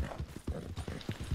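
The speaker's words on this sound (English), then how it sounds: "Run away, wild horse. I will run into you." Horse hooves gallop in the Red Dead Redemption 2 video game, a quick, regular run of soft clip-clop beats, fairly faint but distinct, with no speech over them.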